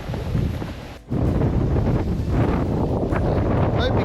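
Strong wind buffets the microphone on a path down to a beach on the South West coast, a loud continuous roar after a brief dip, with surf faintly beneath.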